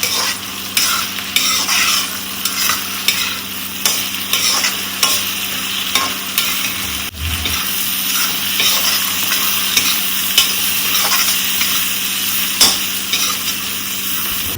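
Daliya (broken wheat porridge) simmers and sizzles in a pan while a spoon scrapes and stirs it in repeated strokes, close and fairly loud, with no talking.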